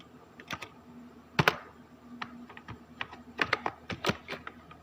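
Fingers tapping rapidly on a computer keyboard, a close, irregular run of crisp clicks and key strikes with brief pauses, no voices.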